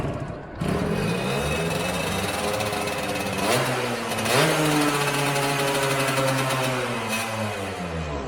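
A Yamaha TZR 80 Deltabox motorcycle fires up and runs roughly, its small engine buzzing unevenly with a couple of sharp revs rising and falling over the steady idle, close and loud.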